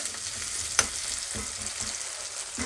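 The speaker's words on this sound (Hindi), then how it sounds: "इसी में हम प्याज डाल देंगे। प्याज को हम गोल्डन कर लेंगे।" Onions frying in oil toward golden, a constant close hiss and sizzle with a sharp clink early on and a few soft stirring scrapes, no voices.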